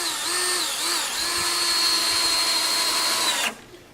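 Power drill driving 2-inch screws into the wooden runner of a guillotine-style wild pig trap door, a close, steady whirring motor with brief pitch dips, then stopping abruptly.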